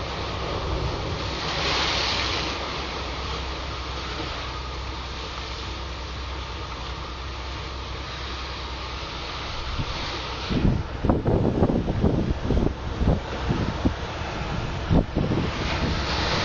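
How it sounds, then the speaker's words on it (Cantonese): Stormy surf pounds the shore under strong wind, a steady roaring wash of waves and wind rumble, followed by a run of sharp, close thuds and splashes as waves repeatedly slap in during the last seconds. "浪不停咁樣拍打，"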